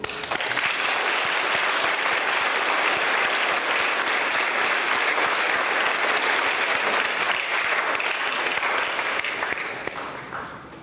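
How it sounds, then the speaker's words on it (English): Sustained, full applause fills a church during a confirmation Mass as the congregation welcomes the confirmation candidates, holding steady for about ten seconds before starting to fade at the end. "So with that joy, we welcome each other with a big applause."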